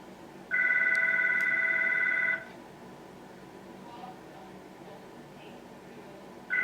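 Indoors, a telephone rings with a loud, steady electronic trill lasting about two seconds. Quiet room tone follows until the ring starts again at the very end.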